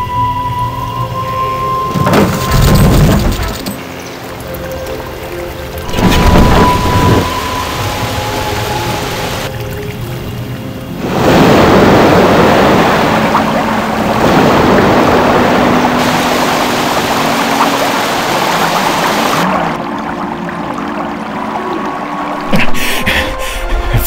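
Water rushing through opened sluice gates in the Paraworld strategy game, a loud churning flow that surges in several bursts and drops back between them, with game tones and effects layered around it.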